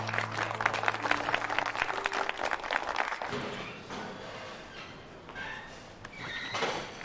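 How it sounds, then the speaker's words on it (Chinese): An audience at a business event applauds in a dense burst of clapping for about three seconds. The clapping then thins into a quieter room tone with a few faint tonal sounds. "给凯曼一点掌声吧"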